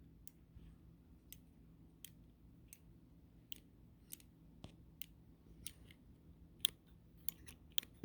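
The sail switch of an RV propane heater gives a series of small, sharp clicks at irregular intervals, faint and close in an otherwise quiet space, with no one talking.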